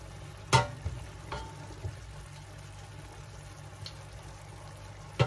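Seafood pasta being stirred in a pan, a faint continuous frying sizzle with a few soft scraping clacks of the utensil against the pan, close and alone without talk.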